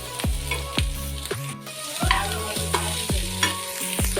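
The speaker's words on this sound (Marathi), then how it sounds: "आता आपण घालूया याच्यामध्ये कांदा बारीक चिरलेला, मिरची आपली थोडी चांगली परतली पाहिजे।" Finely chopped onion and green chillies frying in a pan, a steady sizzle broken by about eight sharp, evenly spaced stirring scrapes, close and with no talk.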